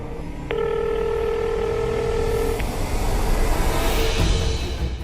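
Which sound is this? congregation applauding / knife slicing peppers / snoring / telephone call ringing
telephone call ringing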